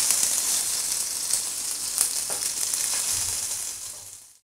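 Half a teaspoon of mustard seeds and five or six curry leaves sizzling in a teaspoon of hot oil in a pan, a steady close crackling fry that holds evenly, then fades out at the end.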